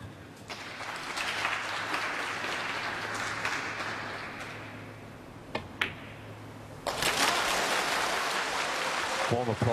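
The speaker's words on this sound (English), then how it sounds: "Warm applause for an excellent break." Audience applause at a snooker match, an International Championship quarter-final, rising after a break: a steady wash of clapping with a sharper, louder burst toward the end, heard alone.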